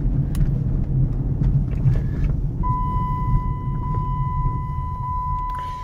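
A 2005 Dodge Magnum R/T Hemi engine idles with a steady low rumble, joined partway through by a constant high electronic tone.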